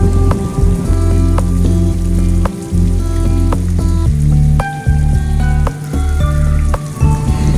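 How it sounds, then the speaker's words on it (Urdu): Heavy downpour during a storm in Karachi, a loud, dense wash of rain on surfaces with distinct drips and splats pattering throughout, steady and close with no voices. "اس وقت آپ آسمان پہ دیکھ سکتے ہیں کہ شدید گرج چمک جاری ہے اور ساتھ ہی موسلادھار بارش بھی"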